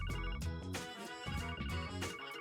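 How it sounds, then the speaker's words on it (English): A phone rings in the video game Trails from Zero, a steady looping electronic ringtone with bright repeating tones, played continuously and fairly loud with no talk over it. "Do they have like the endless phone ringing?"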